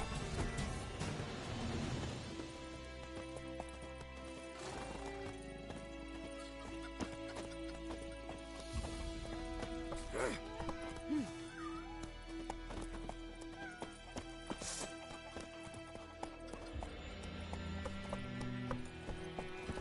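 Roach, Geralt's horse in The Witcher 3, gallops in a steady rhythmic clip-clop of hooves, close and continuous over game music, with a brief whinny.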